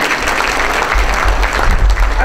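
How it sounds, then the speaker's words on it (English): Loud, dense applause from a crowd at a press club hall of fame induction ceremony, continuous clapping close and full throughout. "Round of applause to them."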